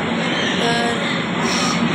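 A train stands at Nashik Road railway station in India, giving a steady, loud rumble of engine and platform noise with no clear voices on top.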